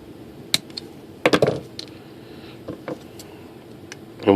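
Plastic stirrers being trimmed to length for model aircraft landing gear reinforcement, a few sharp snipping clicks and small tapping sounds spaced irregularly, close and quiet with no talk.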